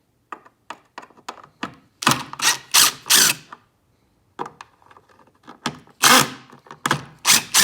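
Torx T20 screws are backed out of a 2014 Lincoln Navigator brake light housing with a tool, producing a series of sharp mechanical ratcheting clicks in close bursts, some quick and light, others louder, with a brief pause midway.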